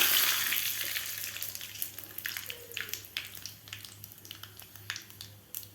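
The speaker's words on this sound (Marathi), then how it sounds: "आता यामध्ये घालायची आपल्याला मोहरी, जिरे, थोडासा कढीपत्ता घालायचा आहे यामध्ये" Mustard seeds, cumin and curry leaves crackle and sizzle in a spoonful of hot oil, a close, fairly quiet stream of sharp pops and hiss with no talking.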